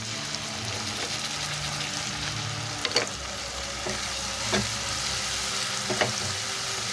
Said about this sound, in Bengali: এর মধ্যে দিয়ে দেবো আমি 2 চামচ আদা রসুন বাটা